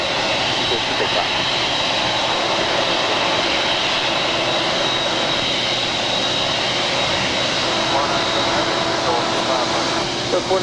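A jet airliner takes off from runway 25 right at Los Angeles International Airport, its engines giving a sustained, even roar while air traffic control radio chatter runs over it.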